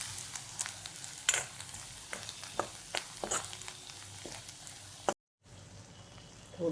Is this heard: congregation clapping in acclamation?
no